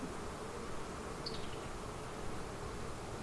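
Honey bees buzz around a farm beehive, many on the ground near its base, making a steady, even hum that fills the whole stretch with no talking.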